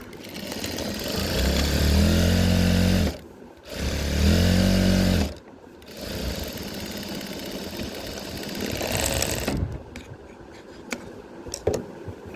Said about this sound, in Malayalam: ക്രോച്ചിൻ്റെ ഈ രണ്ട് ഭാഗം നമ്മൾ സ്റ്റിച്ച് ചെയ്ത് കൊടുത്തു